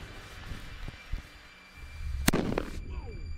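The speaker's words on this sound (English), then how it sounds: "Here I have 20 grams of black powder." Twenty grams of black powder goes off in a single sharp, loud bang at close range, followed by brief crackling debris and fizzing, with quiet background noise before it.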